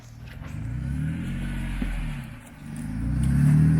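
A 4x4 climbs rock on an extreme four-wheel-drive course in Texas, its engine growling steadily, easing briefly, then revving up louder and higher near the end, close to the listener with no talk.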